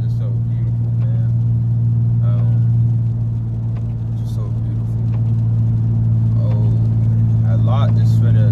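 A Mercedes W210 sedan drones with a steady low engine rumble while driving, heard from inside the car, with faint chirping and muffled voice-like sounds over the constant hum.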